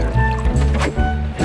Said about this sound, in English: now we have to take four more measuring cups and fill those with 50 milliliters of water